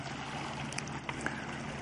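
Boats going by offshore near a small cove at Llucmajor on Mallorca, heard as a faint, steady distant hum over a low wash of sea and wind, with no voices.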